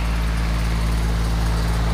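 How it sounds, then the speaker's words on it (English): Lawn mower engine running close by beside a lake, a loud continuous low rumble with a steady buzzing hum. "this lawnmower pass."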